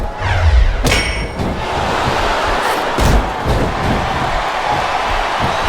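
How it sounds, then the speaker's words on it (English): An arena crowd in the WWE SmackDown vs Raw 2007 wrestling game keeps up a steady roar throughout a women's ironman match, broken by sharp metallic clangs and impacts from the ring. "Sounds like this crowd's got something on their minds, King."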